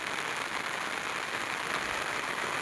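Steady rain falling outdoors during a sunshower hisses down as a dense, even wash of noise, continuous and fairly close, with no voices.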